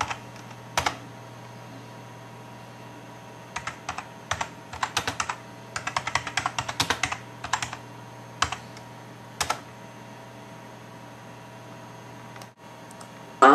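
Someone types on a computer keyboard to log in and set a root password on a server. Scattered clusters of crisp key clicks come in short bursts separated by quiet pauses, with one dense run in the middle and no talking.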